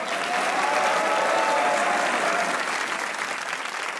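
Studio audience applause on a Pakistani television comedy talk show, a dense, steady wash of clapping that holds loud and even throughout, with no talk over it.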